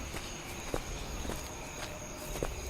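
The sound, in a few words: footsteps in horror video game Graveyard 404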